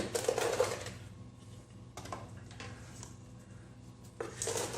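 Scoops of ground coffee go into a percolator tray, giving a few rough scraping, rattling bursts of grounds and metal separated by quieter pauses, close by, with no speech.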